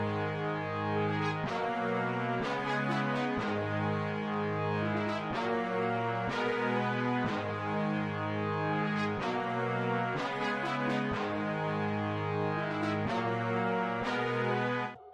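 An orchestral chord pattern programmed in FL Studio plays dry, without effects: sustained string-like chords shift every bar or so in a steady repeating progression, loud and alone with no voices.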